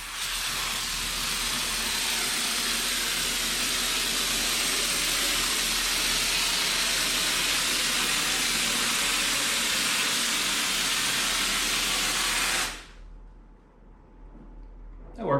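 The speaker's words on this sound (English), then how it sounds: "you can see those short sprays was making the foam come back off the wall" Spray foam insulation is sprayed onto a wall in one long, loud, steady hiss lasting about twelve seconds, then stops abruptly, leaving near silence.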